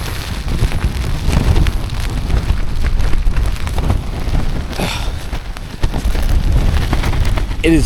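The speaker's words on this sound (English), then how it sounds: "So it's so windy" Strong wind batters a tent close by while camping in Alaska, a loud continuous roar with sudden gusts that make the fabric shake and flap.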